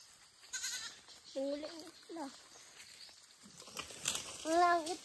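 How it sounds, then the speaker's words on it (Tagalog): Goats kept on a small Filipino farm bleat several times, wavering cries close by, with a person talking and rustling in between. "Ito yung mga alaga natin kambing."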